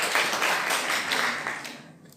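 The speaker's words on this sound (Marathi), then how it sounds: "जोरदार टाळ्या त्यांच्यासाठी पण" A lecture-hall audience claps for a speaker, a dense patter of many hands that holds steady for a moment and then thins out and fades, at moderate volume with no voices over it.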